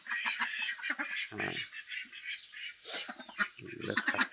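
Farm ducks quack repeatedly just after being let out, in irregular bursts that sometimes overlap, at moderate distance and fairly faint, with a short higher squawk partway through.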